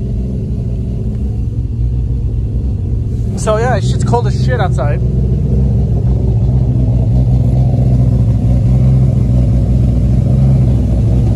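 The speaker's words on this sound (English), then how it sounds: "Car started up right away without any issues." A car with a boosted engine idles steadily in cold weather, a constant low rumble running through the whole clip while someone talks over it.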